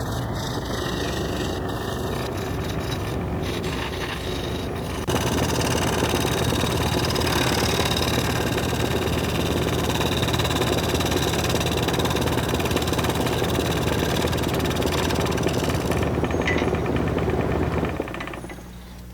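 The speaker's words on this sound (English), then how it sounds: "Half is wood, half is resin, and so the texture changes very rapidly as the lathe turns and you're cutting across it." A wood lathe spins a half-wood, half-resin blank as a tool cuts across it, giving a steady loud motor hum with a dense grinding, rasping cut that keeps going before it winds down at the end.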